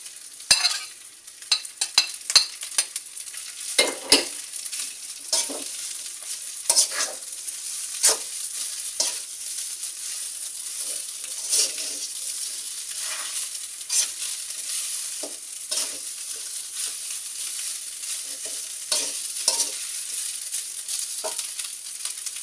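Rice and butter being stir-fried for nasi goreng with petai, a steady bright sizzle broken by repeated scraping and clacking strokes of the spatula in the pan, close and continuous, with no talk.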